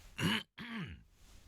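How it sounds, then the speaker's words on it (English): A man clears his throat twice in quick succession, close and fairly loud, two short raspy grunting bursts with a brief silent gap between them. "I have to keep clearing my throat about every 30 seconds"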